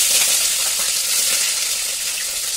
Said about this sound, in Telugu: ఆలు ఫ్రైకి అయితే వేసేస్తున్నా